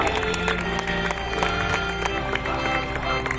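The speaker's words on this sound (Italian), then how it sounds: "Salutiamo la Madonna ancora con un applauso." A crowd applauds steadily at a religious festival for the Madonna in Ognina, Catania, a dense wash of many hands clapping, with voices rising faintly through the noise.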